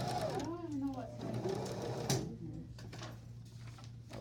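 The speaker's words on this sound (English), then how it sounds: "you're just gonna sew that down" A sewing machine stitches along the edge of an apron, running in short bursts under a steady low hum while someone talks over it.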